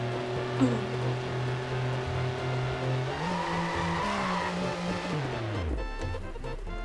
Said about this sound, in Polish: Nie jest szybki ten samochód, ale uuu, skręca ładnie.